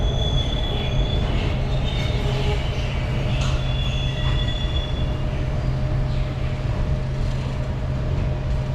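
An express train pulls out of Adra station, a steady loud rumble of wheels on rails running throughout with faint high squeals on top.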